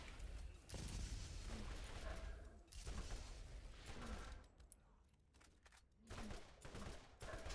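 Grenades going off in the Borderlands video game amid a busy fight, with several loud, broad bursts and rumbling booms spread across the stretch, backed by dense combat noise throughout.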